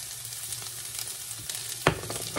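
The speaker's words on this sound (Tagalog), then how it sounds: "Nag-brown na po yung ating garlic. Nilalagay ko po yung ating garlic." Garlic and onion fry in a pan with oil rendered from pork belly, giving a steady close sizzle with small stirring scrapes and a sharper burst near the end.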